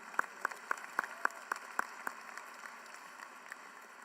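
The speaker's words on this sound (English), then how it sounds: "Let's give them a round of applause." Clapping at an honors college induction ceremony, a run of about eight evenly spaced, distinct claps that fade and thin out after two seconds over a quiet room.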